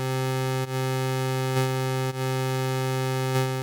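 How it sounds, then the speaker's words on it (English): A steady buzzy hollow tone with comb filtering from one stereo channel being delayed by a few samples, heard in the middle of the stereo field, sustained with a few brief dips. "see all that comb filtering that's happening?"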